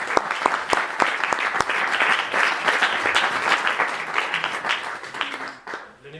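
An audience at a talk on Thoreau's "Simplify, Simplify" breaks into sustained applause, dense clapping that continues for several seconds before thinning out at the end.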